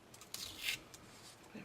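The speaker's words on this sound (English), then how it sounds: "just pull the backing off your foam tape" Backing film peeled from a strip of foam tape, a few quiet crackly ripping bursts with a slightly louder tearing moment near the middle, close by and otherwise hushed.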